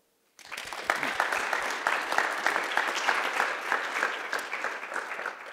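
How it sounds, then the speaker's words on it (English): An audience applauds IDE and Russian students at the end of a master's programme, clapping starting abruptly and holding steady and lively for about five seconds with many distinct hand claps. "So I think the first round of applause that I want is actually for you guys, for IDE and Russian students"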